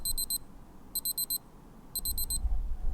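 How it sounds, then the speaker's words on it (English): A Casio ABL-100 watch timer alarm beeps in three evenly spaced bursts of four quick, high, electronic beeps, close and clear over quiet background. "Oh, there goes our timer."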